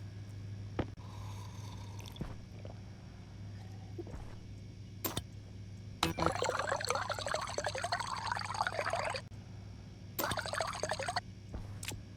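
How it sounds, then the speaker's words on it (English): Water filling bottles inside the space survival game Stationeers, heard as a steady gurgling pour that starts partway in, runs for a few seconds, stops, then returns in a shorter burst over a low constant hum. "I had enough water to at least fill 3 bottles"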